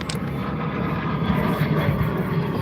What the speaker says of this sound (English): That airplane. It's just flying over us.